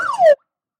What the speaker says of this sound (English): the alarm siren sounded.